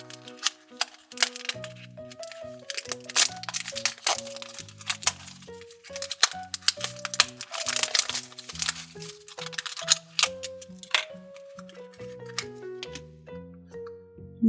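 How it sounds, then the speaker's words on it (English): Plastic packaging of a Shopkins toy two-pack crinkles and crackles in short, irregular bursts up close, set against light background music. "Let's open this 2 pack first."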